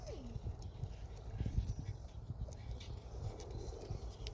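A donkey trotting up on a nature center trail, its hooves giving soft irregular clip-clop thuds close by, with quiet outdoor background and faint voices around.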